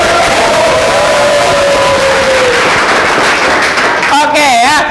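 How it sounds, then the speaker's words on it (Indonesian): A classroom audience applauds at a teacher-training performance test, with loud, dense, continuous clapping and a few voices rising near the end. "Oke, tepuk tangan untuk Iftikor."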